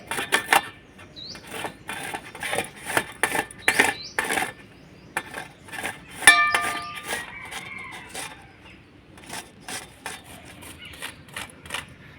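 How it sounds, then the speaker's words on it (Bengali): Unripe jujube fruit is rubbed against a metal grater over a plate in a rapid series of rasping strokes, loud and close, with brief pauses between bursts. "এইভাবে কুলটাকে গ্রেট করে নিতে হবে"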